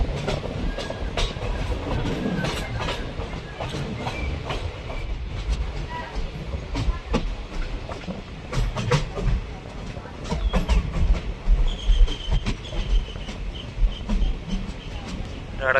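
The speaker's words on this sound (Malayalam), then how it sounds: "ട്രെയിൻ ഇതാ ഉടുപ്പി റെയിൽവേ സ്റ്റേഷനിലേക്ക് എത്തിക്കൊണ്ടിരിക്കുകയാണ്" A passenger train on the Konkan Railway rolls into Udupi station during the monsoon, with a steady rumble and rhythmic clickety-clack of wheels over rail joints. The sound is heard from on board, loud and continuous.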